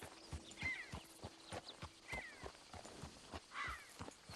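Horse in the Red Dead Redemption 2 video game walking, steady clip-clop of hooves in an even rhythm with a few soft snorts, moderately close and without talk.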